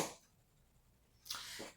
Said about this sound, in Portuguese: Começo a falar muito, começo a tossir.